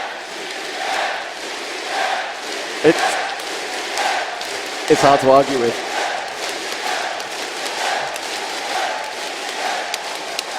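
A large crowd at a League of Legends World Championship final between Taipei Assassins and Azubu Frost chants and cheers continuously, with a few louder shouts breaking through, under a commentator's voice.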